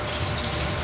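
Water gushes steadily from a tap as water-based white paint is rinsed off a hand, a brief close rush of running water with no voices.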